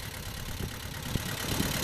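A tractor engine idles with a steady, low mid-range rumble, fairly constant and close, with a few faint knocks and no speech over it.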